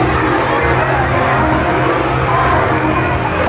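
Students at a school pep rally for Spirit Week shout a team cheer together, a loud, close crowd of young voices cheering and yelling continuously without a break.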